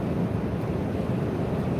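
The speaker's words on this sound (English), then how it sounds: "It's windy out." Constant heavy wind buffets the microphone, a dense low roar with no pauses and no voices.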